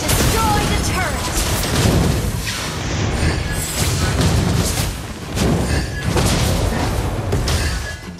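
Valir's Lava Burst fire ability in the Mobile Legends video game erupts in a dense run of loud, booming fiery blasts and crashes, layered with other battle effects and a voice speaking over the steady, busy game mix.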